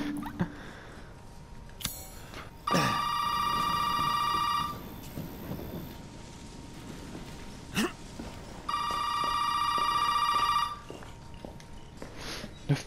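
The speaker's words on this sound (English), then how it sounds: "phone is ringing." An in-game telephone rings in Resident Evil 7: Biohazard, two long bright bell-like ring bursts of about two seconds each separated by a pause, fairly loud over quiet ambient game sound with a few scattered knocks.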